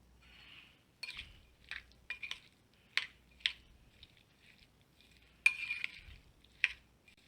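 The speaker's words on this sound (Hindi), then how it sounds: "Black pepper, salt to test और इसको अच्छे से हम मिक्स करेंगे।" A spoon stirs guacamole seasoned with black pepper and salt in a bowl, giving a series of faint, close clinks and scrapes in an irregular rhythm with quiet pauses between them.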